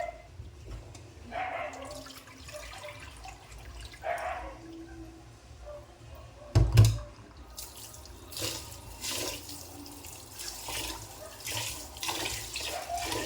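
Raw rice being washed by hand in a basin of water, swished and stirred in repeated splashy bursts, with one sharper slosh midway, nearby and moderately quiet with no talking.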